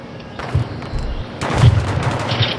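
Pistol gunfire in the shooter game Blindfield: several separate booming shots at uneven intervals over a rumbling background, fairly loud, with no voices.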